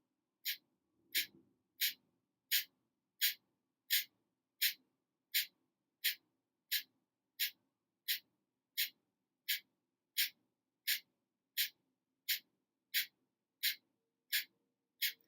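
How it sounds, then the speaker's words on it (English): Rapid yoga breath of fire: sharp, evenly spaced nasal exhalations repeating steadily about once every 0.7 seconds, close and clear with quiet gaps between puffs. "choosing here either long, deep breathing or breath of fire"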